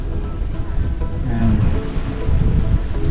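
A loud, steady wash of surf and wind roars continuously at a beach in Palauig, Zambales, with rumbling waves close by and no voices.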